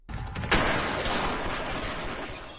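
A sharp burst of gunfire erupts after a brief mechanical clatter, followed by a loud, sustained crackling roar that slowly fades.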